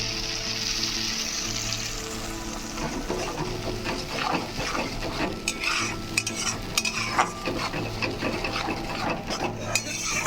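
A spoon scrapes and clatters in a pan as fish curry with tomato paste is stirred and fried, under a steady sizzle, with irregular close metallic knocks throughout.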